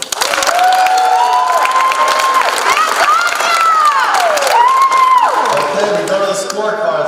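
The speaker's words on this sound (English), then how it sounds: "Loudest applause" Loud audience applause and cheering at a school quiz event, with whoops and high-pitched shouts and whistles over dense clapping, close and sustained.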